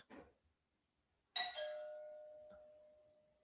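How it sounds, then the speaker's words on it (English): A single electronic doorbell chime rings out, its bright tone lingering and slowly fading, preceded by a brief faint noise. "You guys hear my doorbell?"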